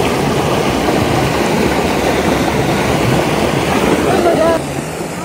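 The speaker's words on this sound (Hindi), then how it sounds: "नदी की आवाज़ कितनी प्यारी है।" A river rushes beside a forest trail in the hills around Dehradun, a loud, steady, close wash of flowing water that continues without a break and eases slightly near the end.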